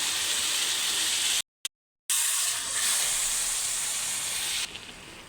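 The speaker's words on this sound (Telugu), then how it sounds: "ఇందులోనే ఒక 200 గ్రామ్స్ చింతపండు నానబెట్టి వేసుకున్న రసాన్ని పోస్తున్నానండి" Soaked tamarind juice (about 200 grams of tamarind) poured into a hot pan for sojji pulihora, hitting the pan with a loud steady hiss and sizzle, broken by a brief silent gap, then fading slightly.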